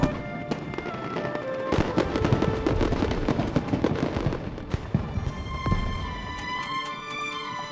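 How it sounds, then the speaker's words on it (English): Fireworks show in a video game: a loud, continuous barrage of booming bursts and sharp crackles overlapping without pause, with bright whistling and sparkling tones ringing through toward the end. "Fireworks show?"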